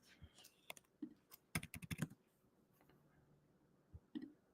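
Close, quiet computer-keyboard typing in short clustered bursts of key taps with pauses between, a few isolated clicks at the start and end.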